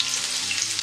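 Onion and green chili fry in hot oil with cumin, mustard seeds, bay leaf and dried red chili, giving a loud, close, continuous sizzle with no voices.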